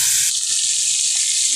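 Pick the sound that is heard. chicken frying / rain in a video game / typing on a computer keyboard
chicken frying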